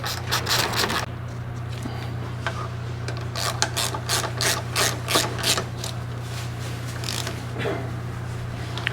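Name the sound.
tightening brake rotor bolts with a 5/16 Allen wrench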